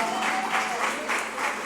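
A church congregation claps together to welcome their missionary pastor during a celebration service, a steady dense wash of applause that swells in soft pulses, with a faint sustained tone running underneath.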